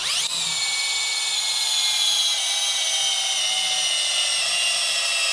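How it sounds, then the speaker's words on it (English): A cordless drill spins up quickly to twist wire, then whines steadily at high speed, close and continuous, with no talking. "I'm going to take that out by spinning this thing with my battery drill"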